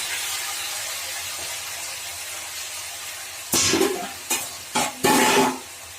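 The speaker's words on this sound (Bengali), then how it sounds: "এই গরম তেলের মধ্যে ঝিঙে আলু সেদ্ধটা দিয়ে দিলাম" Boiled ridge gourd and potato pieces hit hot oil in a kadai, and a steady hiss builds into several loud bursts of sizzling as more pieces drop in near the end.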